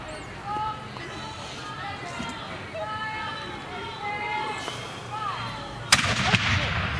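Small cannon firing during a Renaissance faire demonstration in Pennsylvania: after steady talking, one sharp, loud boom comes near the end, followed by a lingering crowd rumble.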